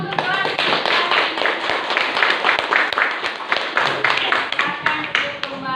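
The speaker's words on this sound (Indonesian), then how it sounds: "Kita beri aplaus dulu untuk kelas." A classroom group applauds, with brisk, lively clapping from many hands held close, continuing steadily, while voices chatter faintly underneath.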